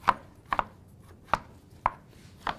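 A knife slices tomatoes on a cutting board, giving five crisp, close chops spaced unevenly, each a short sharp tap against the board with no talking.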